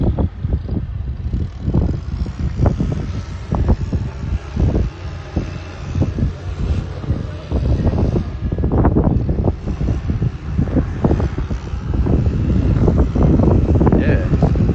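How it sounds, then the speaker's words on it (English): Gusty wind buffets the microphone in irregular rumbling bursts outdoors at the Federation Pavilion in Centennial Park, Sydney, growing stronger toward the end, with voices faintly underneath. "It's getting windy, man. It's getting all windy up in here."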